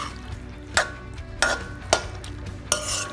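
Spoon stirring idli chilli with spring onions in a pan, four or five distinct scraping strokes spaced roughly every half second over a soft background sizzle, close and clear with no talking.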